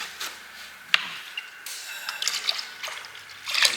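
Used rust-removal liquid being poured into a container, heard as intermittent splashing and trickling with a sharp knock near the start and a louder gush toward the end, no voices.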